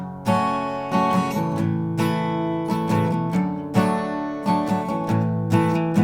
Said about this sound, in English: Now if I apply that strum pattern to the entire thing, it's going to sound like this.